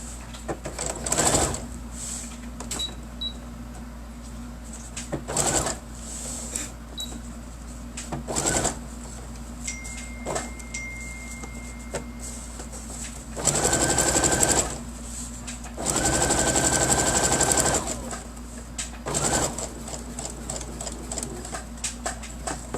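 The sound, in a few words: sewing machine stitching around a fabric bookmark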